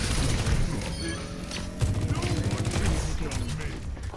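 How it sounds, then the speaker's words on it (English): Rapid bursts of gunfire as Ashe shoots at an enemy tank in the Overwatch video game on the Numbani map, with repeated cracks and thumps layered over game effects across the clip. "Shooting the tank."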